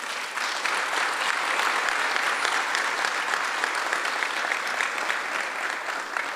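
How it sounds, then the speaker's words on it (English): Audience applause at a police chief press conference in Fort Worth, a steady, even burst of clapping from a seated crowd, moderately loud and continuous from start to finish with no talk over it. "Please give Robert a round of applause."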